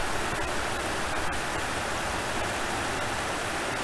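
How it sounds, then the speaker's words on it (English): Steady, dense rush of a waterfall stream in Porcupine Mountains, Michigan, fills the whole clip, a continuous broadband hiss, with no voices. "You hear the sound of the water?"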